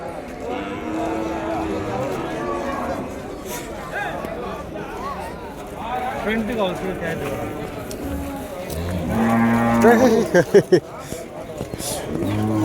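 Cattle at the Vaniyambadi cattle market moo several times, a few loud nearby calls among the crowd noise, while people talk throughout.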